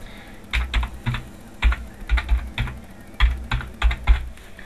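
Keys clatter on a computer keyboard as a web address is entered, clustered bursts of close, crisp clicks separated by brief pauses, with no talking.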